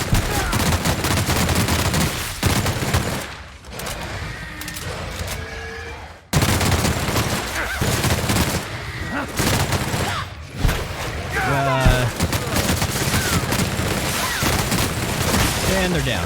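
Loud, rapid gunfire rattles through a firefight in The Outer Worlds, with long bursts, a brief lull near the middle, then renewed shooting, while voices talk over parts of it.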